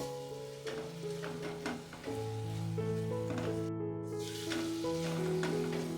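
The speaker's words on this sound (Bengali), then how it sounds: "হলুদ গুঁড়োটা দেওয়ার পর এবার খুব ভালো করে হলুদটাকেও মিশিয়ে নেব" Turmeric stirred into potatoes frying in a pan for a spicy pointed gourd dish: a steady sizzle with repeated spatula scrapes, under sustained tonal background music.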